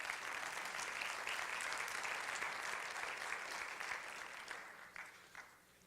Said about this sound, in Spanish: Dile un aplauso a Él.